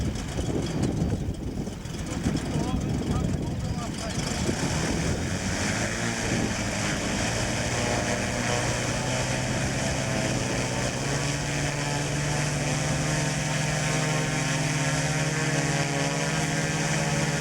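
Model aircraft flying at a Scottish airshow, a steady propeller engine drone holding a rising then settling tone, continuous and fairly close with no talk.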